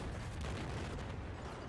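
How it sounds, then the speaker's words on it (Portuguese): Battlefield 4 gameplay explosions rumble in a dense, continuous roar of booms and blasts, loud and close, with no voices. "em momentos como esse, explosões"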